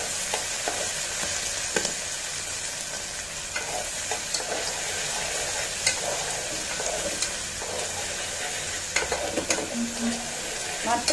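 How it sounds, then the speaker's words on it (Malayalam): Green peas sauté in hot oil in a pan for pulao, with a constant close sizzle and occasional stirring scrapes throughout. "മട്ടർ ഒന്ന് ഇതിനകത്ത് കിടന്നൊന്ന് വഴറ്റട്ടെ"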